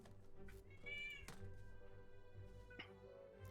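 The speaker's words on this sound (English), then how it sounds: "I'm sorry about my cat." A house cat meows once near the microphone with a rising, drawn-out cry, then a soft thump and a brief second sound follow, all fairly quiet over a steady background hum.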